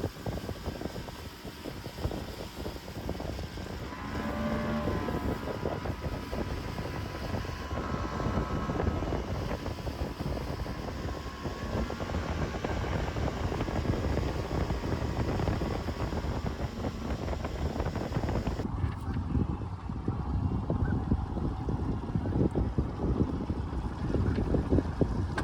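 A small boat running on floodwater, with a steady mechanical drone and broadband wind and water rush filling the whole clip, fairly close and continuous, with an abrupt shift in tone near the end.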